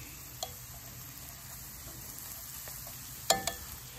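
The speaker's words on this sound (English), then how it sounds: "onions are browning, garlic's browning" Onions and garlic browning on a Ñuke Delta grill, a faint steady sizzle with a few sharp clicks and a brief louder clatter near the end, no speech.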